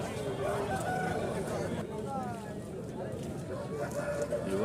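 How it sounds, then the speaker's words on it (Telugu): Rooster crowing amid a busy village market for native chickens in Anantapur, the harmonic crow rising over dense crowd chatter and steady background noise, with other fowl calls scattered through. "వారం సంతకొచ్చిన కోళ్ళు ఇవన్నీ"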